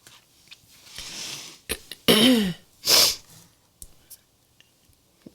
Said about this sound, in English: My body's trying to decide if it's going to sneeze again.